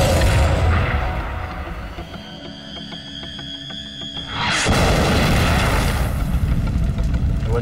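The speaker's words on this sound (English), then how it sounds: "The 88, a modified anti-aircraft gun, accurately fires high-velocity anti-tank rounds that can penetrate the heaviest armor" A German 88mm anti-aircraft gun firing anti-tank rounds gives a loud, heavy boom that rolls into a long rumbling decay, followed by another dense, powerful blast.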